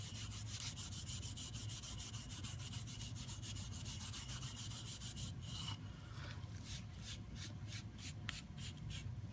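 A cotton rag rubs steadily over red cedar boards, wiping off leftover sealer and oil-based stain, with a continuous close scrubbing texture that breaks into a quicker series of short strokes near the end.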